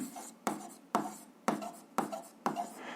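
A pen writes an algebra equation on paper in six quick strokes, each a sharp scratch that fades before the next, with no voice.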